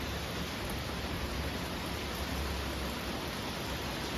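Steady rain falls under a dark sky along a roadside, a dense, even hiss of drops that holds constant without a break, close and enveloping, with no voices.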